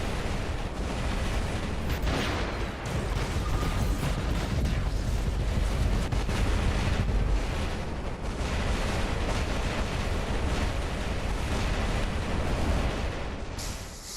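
Rockets launching in the War Robots video game, a dense continuous roar of blasts and booming impacts that stays loud and unbroken for the whole stretch before easing slightly at the end.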